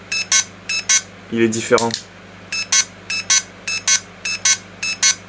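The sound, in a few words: electronic beeping from airsoft M4 gun electronics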